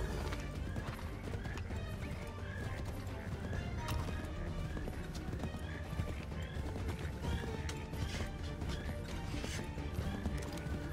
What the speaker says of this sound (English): That is not my horse.